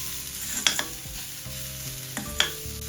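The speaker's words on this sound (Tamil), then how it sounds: "இப்ப கறித்தூள் போட்டு ஒரு கிளறி விடுவோம்." Curry powder stirred into a sizzling mixture in a frying pan, with a steady fry sizzle and a few sharp scrapes and clinks of the spoon against the pan, close up.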